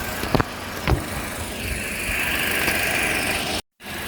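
A 2019 Toyota Altis idles quietly with its hood open, a soft steady engine hum with a few faint clicks and knocks early on before a brief dropout near the end.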